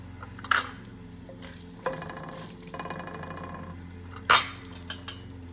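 Asafoetida and red chillies are tempered in hot oil in a kadai, a soft continuous sizzle with a few louder scrapes and clanks of a spoon against the pan, close and with no one speaking.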